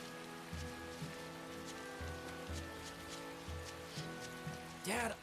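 Steady rain falls in a video game village, a soft, even patter heard alone at low volume, with a faint low thumping pulse beneath and a brief swooshing sweep at the end.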